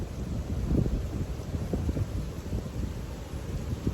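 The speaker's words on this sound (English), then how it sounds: "It's getting windy and dusty now." Strong wind buffets a garden outdoors as a continuous dense roar of gusts and microphone rumble, steady and loud with no voices.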